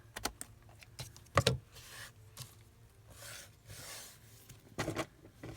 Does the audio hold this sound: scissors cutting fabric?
yes